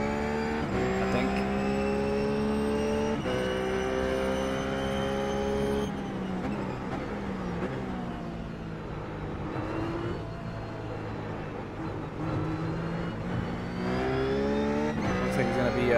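GT3 race cars circle the Zandvoort circuit in the iRacing simulator, with a continuous, loud engine drone that rises and falls through gear shifts and revs, including a McLaren nearby.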